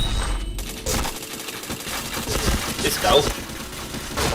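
Rapid bursts of gunfire from a shooter video game crackle in quick succession, mixed with game effects while a player talks over the action.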